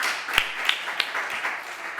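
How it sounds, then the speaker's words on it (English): An audience at a tribunal hearing's closing session in Berlin claps for the participants, a few distinct sharp claps standing out over a soft, diffuse wash of applause in a hall. "a big applause for them"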